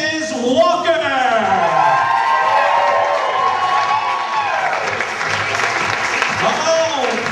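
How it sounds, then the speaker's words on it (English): Wedding reception guests applaud and cheer as the newlyweds make their entrance: loud, sustained crowd clapping with shouts and whoops, under an announcer's amplified voice speaking over it. "give a huge round of applause"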